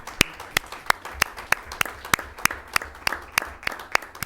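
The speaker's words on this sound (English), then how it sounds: "And I think Amy Busby really needs to get a huge round of applause because she put that tailgate together." Audience at a school district board meeting applauding, though only a single pair of hands is evident: sharp, evenly spaced claps about three per second, fairly close and distinct, with no talk over them.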